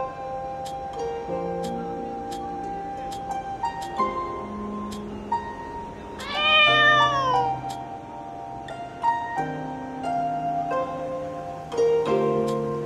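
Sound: kitten meowing in video game Moonlight Blade

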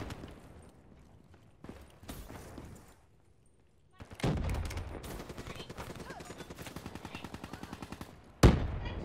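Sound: gunfire from a gun in a video game

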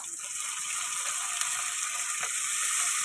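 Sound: onion paste sizzling as it is added to the pan

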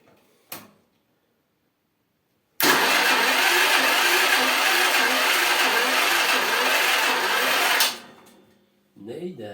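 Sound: generator engine cranked with electric starter

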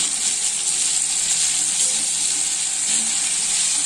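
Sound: onion, tomato and brinjal sautéing in a pan

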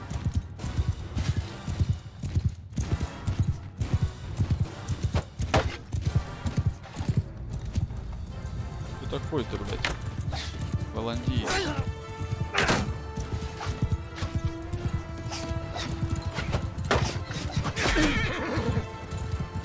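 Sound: horse galloping and neighing in video game Mount & Blade II: Bannerlord

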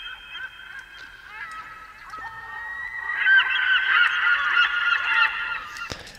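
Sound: bird sound effect in tropical house remix

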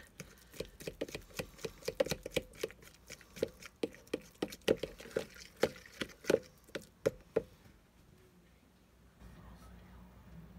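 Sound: mashing avocado for guacamole

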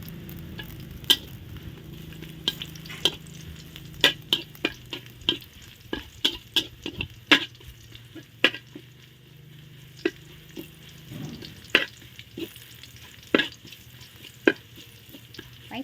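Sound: garlic stir-frying in a pan until fragrant

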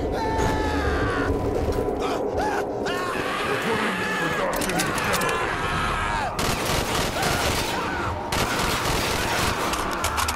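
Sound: gunfire shooting at a zombie in a video game

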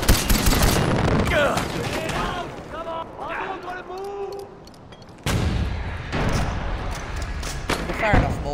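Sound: mortars firing in the video game Far Cry 4

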